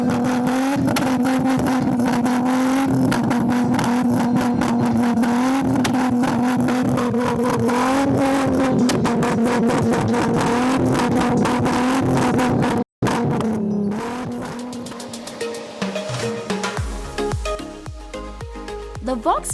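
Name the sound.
2.8 litre straight-six car engine with modified exhaust revving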